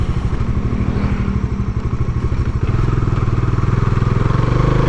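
A Kawasaki Dominar UG2 motorcycle rolls over a pothole, its steady engine rumble broken by a jolt and clatter partway through, then a louder, throbbing engine note near the end.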